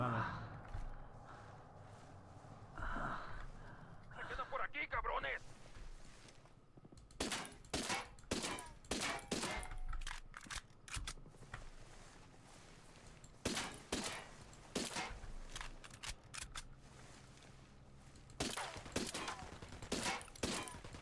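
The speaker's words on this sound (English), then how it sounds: "Taking fire from the checkpoint." Gunfire from a checkpoint in Ghost Recon Wildlands, heard as scattered sharp shots and quick bursts, some clustered, over a low background, with someone talking.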